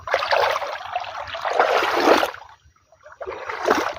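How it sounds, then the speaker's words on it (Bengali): Water pouring and splashing into a flooded paddy field, a close, steady rushing flow that breaks off briefly before resuming. "বহাল জমে কেমন জল পড়ছে"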